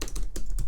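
Quick keystrokes on a computer keyboard during a Windows PowerShell session, a brief steady burst of close, crisp clicks with no voices.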